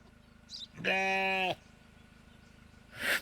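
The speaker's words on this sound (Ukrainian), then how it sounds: "Кози завели, чи це можна як товар?" Goats bleat at a border checkpoint in the video game Contraband Police, one clear drawn-out bleat with a short faint call before it and another starting at the end.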